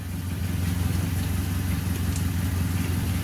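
A Suzuki Carry 1.0 engine runs steadily just after a new injection coil install, a close, continuous low idle hum with a fine rhythmic pulse and no talk.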